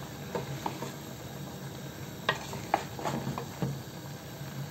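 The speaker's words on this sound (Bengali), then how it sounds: "হালকা একটু নাড়া দিয়ে নেব" Goat meat bhuna being stirred in a cooking pot, with soft scraping and a few distinct utensil knocks over a steady low sizzle, close by and moderately quiet.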